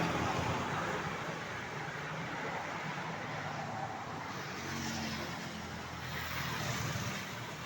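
Highway traffic in Lubao, Pampanga, a continuous broad roar of passing cars and vehicles that swells and eases slightly, fairly close and without talk.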